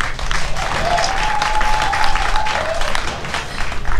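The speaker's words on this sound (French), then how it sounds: "Je voudrais que vous acclamez." A crowd at a new year's greetings ceremony in the Marcory town hall claps loudly and continuously, with cheers and a long whistle rising over the applause, close and full.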